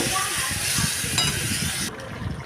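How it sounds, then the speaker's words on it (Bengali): Pumpkin stirred into masala in a pan makes a dense, close sizzle with soft scraping, while a voice murmurs underneath and the hiss drops away abruptly near the end. "মশলার মধ্যে কুমড়োটাকে ভালো করে নাড়াচাড়া করে নেব"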